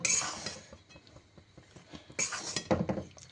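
Banana being stirred in a pan while cooking: repeated metallic scrapes and clinks of a utensil against the pan, close and clear, with bursts of louder stirring at the start and near the end.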